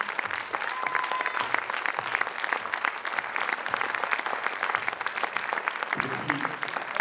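Sustained applause from a cinema audience at a film premiere, thick even clapping throughout about seven seconds with a slight low rumble near the end.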